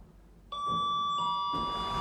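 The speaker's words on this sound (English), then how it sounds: "That bell is the same as the ones that you'd hear in the airport when they call up for your flights." A lift arrival bell in a Kidderminster town centre shopping area rings a single clear electronic chime partway through, its tone sustaining and ringing on over low indoor hum.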